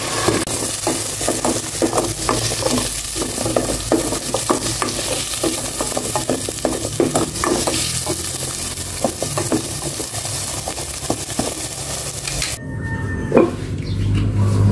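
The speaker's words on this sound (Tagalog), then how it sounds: "I-prito ko muna itong potato at carrots." Loud, continuous sizzling of potatoes and carrots frying in oil, with rhythmic stirring scrapes throughout; the sizzle drops off abruptly near the end.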